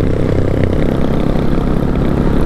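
Honda XR / CRF 400 motorcycle engine running at steady speed on a highway, a loud continuous low drone with wind rumble throughout, no talk.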